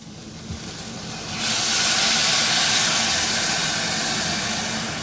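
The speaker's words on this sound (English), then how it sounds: "So once it's fried like this, we wet it to the top with our poultry stock." Poultry stock is poured into a hot pan of fried cardamom seeds and gives a loud, close, steady sizzling hiss. The hiss swells after the first second and keeps going with no talk.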